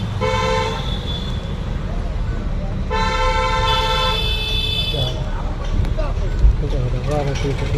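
A car horn gives two sustained honks while driving, the first short and the second longer, loud over steady engine and road noise, with people talking inside the car.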